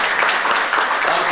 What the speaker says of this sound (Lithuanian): Taigi, jūsų aplodismentai,